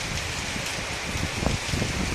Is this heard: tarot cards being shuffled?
no